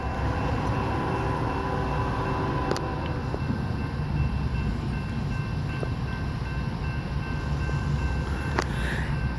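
A CSX freight train led by an older EMD diesel locomotive passes by Pembroke, a steady loud rumble of engine and rolling cars running throughout with a few sharp clanks.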